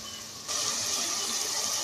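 Water is poured into white lobia in a pressure cooker, starting as a sudden steady splashing stream that continues close and loud.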